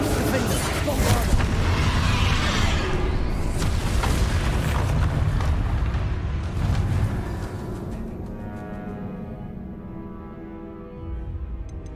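Spell explosions from Confringo and Bombarda in the Hogwarts Legacy video game, a dense stretch of loud booming blasts and rumbling over about eight seconds, then dying down into a quieter tail.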